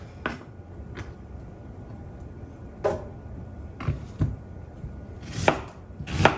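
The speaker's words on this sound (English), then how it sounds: "I peeled the onion and we're just gonna kind of roughly chop it" A knife roughly chops an onion on a cutting board in sharp, irregular thuds, a handful of strikes spaced over a low background hum.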